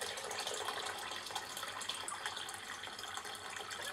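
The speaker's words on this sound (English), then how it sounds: "So I'll just get some water from the tap, make up our 3 cups." Water runs steadily from a kitchen tap while filling cups for a vegetable soup, a continuous faint hiss with no break and no talk.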